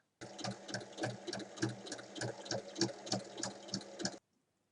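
A sewing machine stitches down the full length of a folded fabric bag handle, a steady rapid mechanical chatter heard up close that runs about four seconds and then stops abruptly into silence.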